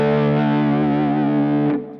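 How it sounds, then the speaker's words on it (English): A distorted electric guitar solo, with a sustained, gliding slide-guitar-like tone and chorus effect, ringing loud and steady for about two seconds before cutting off. "It also almost has the sound of kind of a slide guitar thing."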